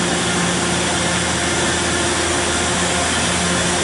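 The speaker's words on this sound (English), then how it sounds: "is the Royal Master Grinder model TG-12x4 high accuracy machine with our automated bar feeder" A Royal Master TG-12x4 centerless grinder with an automatic bar feeder runs with a loud, steady broadband whir and hum, constant and unbroken, with no voices.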